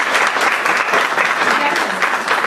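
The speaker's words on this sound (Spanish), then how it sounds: "Le dan un aplauso a Joana" A lecture audience at an accounting seminar applauds Joana, a loud, dense wash of clapping sustained evenly throughout with no speech over it.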